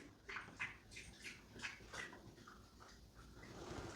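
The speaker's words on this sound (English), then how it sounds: "I have a dog constantly drinking water" A dog lapping water from a bowl, a run of quick, fairly soft licking splashes with a steady rhythm, close by, with no talk over it.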